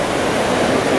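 Water at the Trevi Fountain in Rome pours and splashes in a dense, steady rush, loud and close, with the murmur of a crowd blended into it.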